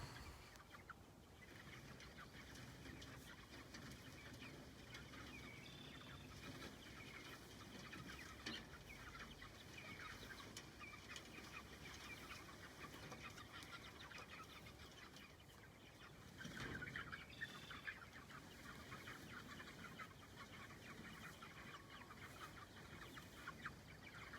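Chickens cluck softly in a garden for a long stretch, faint and steady under a continuous outdoor background hiss.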